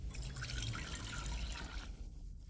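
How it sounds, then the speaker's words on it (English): Half a liter of red wine is poured slowly into a pot outdoors in snowy weather, making a steady, quiet liquid trickle that tapers off near the end. "Go ahead and take exactly half a liter of your red wine and slowly pour all of it directly in here"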